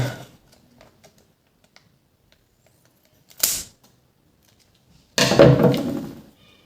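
A package of popping candy is torn open in two bursts: a short crinkly rip, then a longer, louder rustle of crackling wrapper after a pause, close and without talk.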